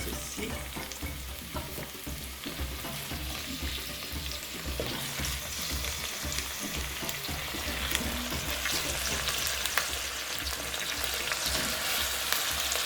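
Turkey wings and chopped onions frying in hot oil give a steady, close sizzle that slowly builds, with occasional stirring.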